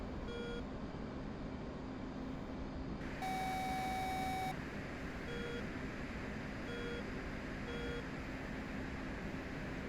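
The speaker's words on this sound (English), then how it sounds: "Sorry for the loud beep." A loud, steady electronic beep sounds for about a second inside the DCS flight simulator game, standing out over constant engine drone, with fainter repeated short tones afterward.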